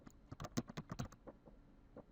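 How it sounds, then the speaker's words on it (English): Computer keyboard typing while logging in with a username and password, a quick burst of soft, close key clicks that slows into a few scattered taps. "type in my username and password,"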